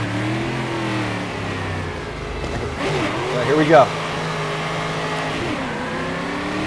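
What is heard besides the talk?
stock car engine revving in the video game StockCar 2013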